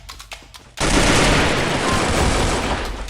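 Dense automatic and rapid gunfire from the video game Free Fire erupts suddenly after a quiet start, loud and sustained like a continuous fusillade, with faint voice traces early on.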